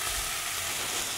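Zucchini noodles sizzle in a skillet as their moisture cooks off, a steady, close, loud hiss with no break and no voices.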